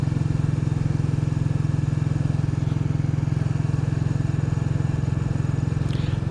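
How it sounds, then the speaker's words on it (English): A Royal Enfield Bullet 350 single-cylinder motorcycle engine thuds steadily at idle, a loud, even low pulse throughout with no voices. "Nothing quite like the thud of a big single."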